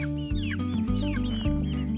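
Backyard chickens cluck steadily nearby in their run, with higher squawks and chirps layered over a constant background hum.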